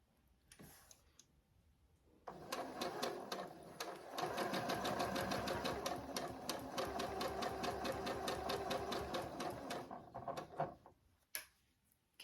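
A domestic sewing machine running steadily while chain piecing small fabric squares, its needle clattering in a fast, even rhythm for several seconds, with quieter mechanical clicks before and after the run.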